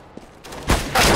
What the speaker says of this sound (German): Wer schießt ja gerade mit Pistole auf mich?